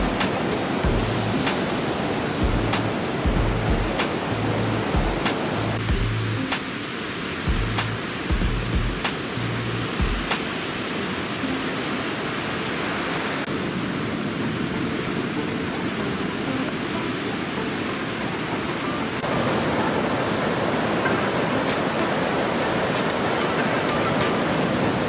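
Small ocean waves washing onto a beach in Sri Lanka, a continuous broadband surf wash with a rhythmic low thumping in the first ten seconds and no voices.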